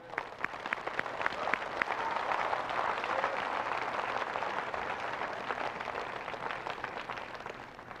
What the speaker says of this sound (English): And all of us here applaud you for that.